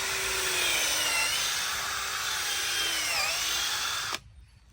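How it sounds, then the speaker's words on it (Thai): A power drill bores into a tree trunk to make a hole for injecting medicine into a sick tree, a loud steady whine with slight pitch wavers that stops abruptly near the end. "ดูเจาะให้เสร็จก่อน"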